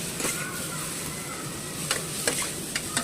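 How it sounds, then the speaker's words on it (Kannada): Sesame and poppy seeds frying in a pan, a steady close sizzle with occasional stirring scrapes and faint pops throughout. "ಇಷ್ಟು ಚೆನ್ನಾಗಿ ಫ್ರೈ ಮಾಡ್ಕೊಳ್ಳಿ."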